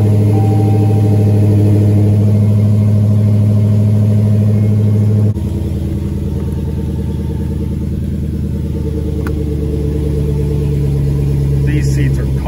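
A 2020 Dodge Challenger Hellcat Redeye Widebody engine rumbles loudly up close, a deep steady drone that drops in pitch partway through, with someone talking over it.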